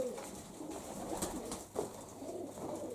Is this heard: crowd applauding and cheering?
no